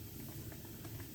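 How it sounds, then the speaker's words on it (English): Water boils in a pot for a full package of spaghetti, a faint, steady simmering hiss and soft bubbling with no other sounds. "boil 1 full package of spaghetti"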